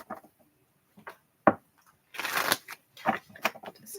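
Cards are shuffled in a few quick riffles, crisp papery bursts with short pauses between them, close to the microphone.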